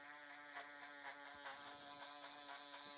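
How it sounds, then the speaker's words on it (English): An electric foil shaver buzzes steadily up close during a haircut, its tone shifting slightly with each stroke as it grabs hair. "Foil shaver."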